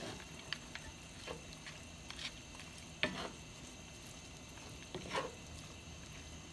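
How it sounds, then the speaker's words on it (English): Frozen peas and carrots simmer on low heat in a pan for shepherd's pie, giving a faint, soft sizzle with scattered light clinks and stirring taps. "I'm just going to give this a quick toss and turn it on low and let it simmer."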